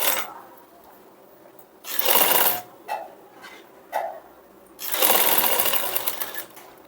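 A sewing machine stitches a princess-cut blouse in two bursts of running, one short and one longer, each stopping abruptly, with faint handling clicks between them and no talking.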